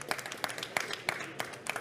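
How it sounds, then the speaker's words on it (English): Audience applause at a climate action event on bamboo and biodiversity, a moderate crowd clapping steadily with distinct pulses, a short burst heard at middle distance. "Give them a round of applause."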